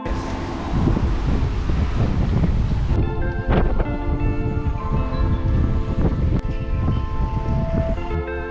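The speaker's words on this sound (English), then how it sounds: "It's a warm but windy day." Strong wind buffets the microphone aboard a sailboat moored in a Spanish marina on a warm winter day, a steady loud rush with steady tonal rigging or halyard hum running through it and no voices.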